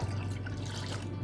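Warm liquid pours steadily into a mixing bowl as the wet ingredients are combined before the flour goes in, a continuous close trickle with no talk over it.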